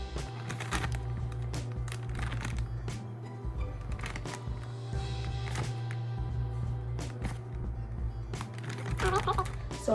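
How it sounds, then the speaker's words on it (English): Plastic bag rustling and crinkling comes in irregular bursts as thin cut steaks are placed inside, close and moderately loud over a steady low hum. "we're going to put the steaks inside of the bag"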